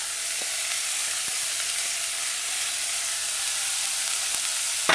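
Shredded red cabbage sizzles steadily in a pan for a vegan red cabbage stew, a constant close hiss with a few faint clicks, no voices.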